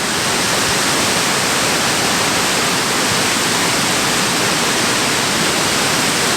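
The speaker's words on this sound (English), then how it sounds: "Oh, and here's another waterfall." Waterfall at Plitvice Lakes National Park, a steady, dense rush of falling water that stays loud and unbroken from start to finish.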